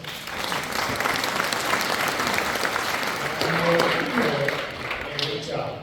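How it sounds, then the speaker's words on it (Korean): Sustained applause from the crowd at a Korean commemorative ceremony marking the 149th birth anniversary of President Syngman Rhee, steady and fairly loud throughout, with voices talking faintly underneath. "박수 한번 보내주실까요?"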